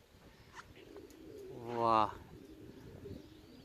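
A racing pigeon gives one short cooing call around two seconds in, moderately close, over faint outdoor background noise and brief speech.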